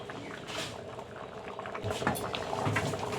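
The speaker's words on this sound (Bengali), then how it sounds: "সর্ষের তেলটা দিলাম, এতে একটু ফুটবে" Ghugni, the Bengali yellow-pea curry, bubbling in a pan after mustard oil, garam masala and kasuri methi go in, with a steady, close simmering burble and scattered soft pops and taps, no voices.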